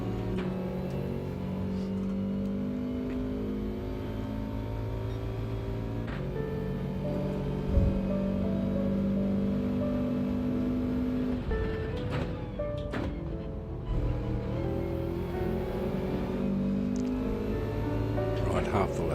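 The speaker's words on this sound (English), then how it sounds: "I can hear the engine a little better now" Race car engine in a racing video game, droning and shifting in pitch through gear changes at moderate level, partly under someone talking.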